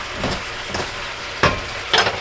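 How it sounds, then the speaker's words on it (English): A hot pan on a home stove being deglazed with white wine and scraped while cooking rabbit hash: a steady soft sizzle with a few louder scraping bursts, no talking. "And that white wine helps deglaze all that stuff."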